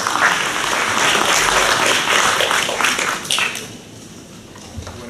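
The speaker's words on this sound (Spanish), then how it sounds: "Recibamos al doctor Santos Urtecho con fuertes aplausos" Loud, sustained audience applause welcoming a speaker to an academic law lecture, dense clapping filling most of the span before thinning out near the end.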